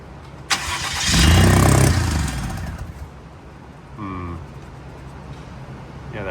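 A Ford F150's 2.7 twin-turbo EcoBoost V6 cranks and catches with a sharp start, revs loudly for about a second, then settles into a quieter idle before a brief second burst of cranking.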